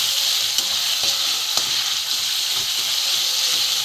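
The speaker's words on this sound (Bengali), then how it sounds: "বটবটি বাটাটা একটু তেলে আমি ভালো করে ভেজে নেব।" Bean paste fries in oil in a wok, giving a dense, continuous close sizzle and hiss with faint stirring scrapes and occasional small pops.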